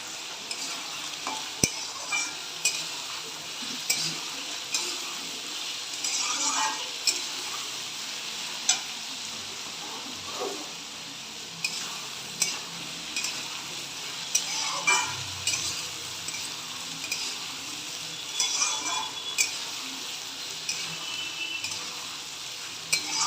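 Potatoes and onions sizzle together in a pan while a spatula scrapes and turns them in repeated strokes, close by and steady, with occasional metal clinks and no speech.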